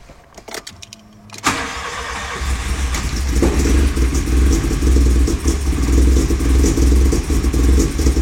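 VW Golf GTI 1.8 16v with newly installed camshafts cranks briefly after a few quiet clicks, then fires up and settles into a loud, close, rough idle.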